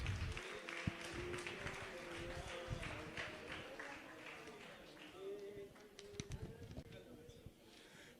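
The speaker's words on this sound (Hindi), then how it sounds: "तालियां बजाकर एक बार अनुमोदना कर दें" Audience applause at a Digambar Jain community religious discourse by Acharya Vidya Sagar Ji, a faint, steady patter of many hands clapping throughout, with scattered louder claps and a distant murmur of people.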